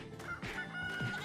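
A cartoon rooster clucks during a scene where a goat, rooster, dog and monkey arrive at a fight, giving a few short, fairly faint clucks over busy background sound.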